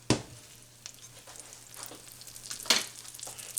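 Butter goes into a hot pan ahead of a smoked ham and bacon hash, producing a light, crackly sizzle with a few louder hissing bursts and small knocks, fairly quiet with a steady low hum underneath.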